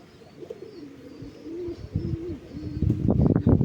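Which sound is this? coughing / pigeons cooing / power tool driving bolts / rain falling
pigeons cooing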